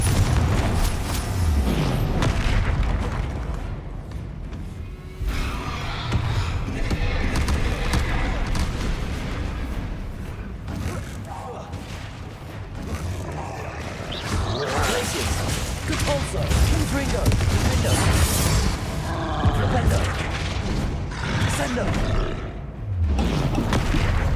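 Confringo and Convulso spell explosions in the Hogwarts Legacy video game, repeated loud booms and whooshes in a continuous combat din, with voices shouting spell names throughout.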